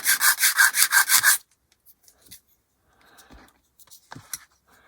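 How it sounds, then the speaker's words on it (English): A small part from a 1/48 HK Models B-25J plastic kit rubbed briskly on sandpaper in about eight quick, loud, even strokes, then quiet with a few faint handling scrapes and taps nearby. "Give it a sand."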